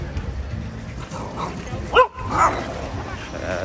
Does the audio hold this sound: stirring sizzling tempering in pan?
no